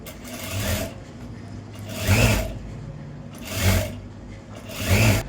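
Sewing machine stitching the sleeve seam of a blouse, three separate bursts of running stitches each swelling and fading, with quiet pauses between, close and fairly loud.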